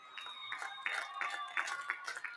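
Applause from a commencement audience for graduating 4.0 students at a spring undergraduate ceremony: a steady patter of many hands clapping, swelling in uneven bursts at moderate loudness, with no talking.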